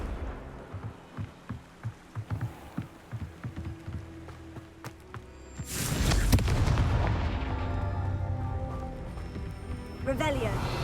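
A Confringo explosion spell in the video game Hogwarts Legacy bursts with a loud, close blast. A run of rhythmic thuds and crackles leads into it, and a long rumbling roar of debris follows before a second smaller burst near the end.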